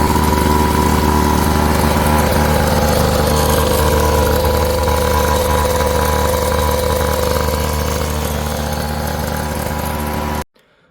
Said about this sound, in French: Voilà, vous venez d'entendre le bruit du quad